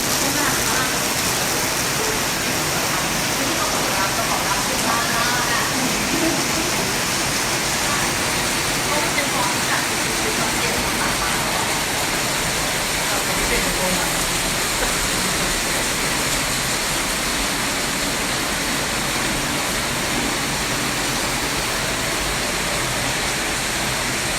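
Heavy rain pours down steadily in Sangkhla Buri, Kanchanaburi province, Thailand, a loud, dense wash of broadband noise that holds unbroken for the whole stretch with no clear speech over it.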